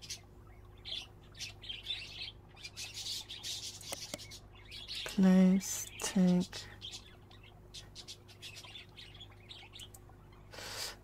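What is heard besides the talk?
birds chirping in the video game Exotica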